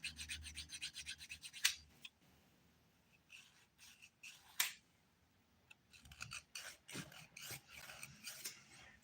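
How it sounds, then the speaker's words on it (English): A 180 grit nail file rasps across a fingernail in quick, close back-and-forth strokes, starting in a dense burst, pausing, then resuming in shorter scratchy passes, with no talking. "So I'm going to start with a 180 grit file"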